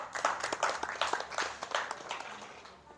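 Audience clapping at a small entrepreneurs' meetup in a café in Bungah, Gresik: a brief, moderately loud burst of mixed handclaps that fades out toward the end.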